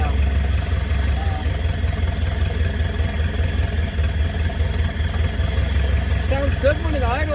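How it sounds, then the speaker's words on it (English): An old scrapyard car engine idles steadily after its first start in 35 years, a constant low rumble running throughout, with faint mechanical chatter above it. "Sounds good when it idles."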